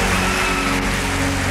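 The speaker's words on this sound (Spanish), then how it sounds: "¡Aplausos para ambos!" A theatre audience applauds a comedy show, producing dense, loud, continuous clapping with no break and no voices heard over it.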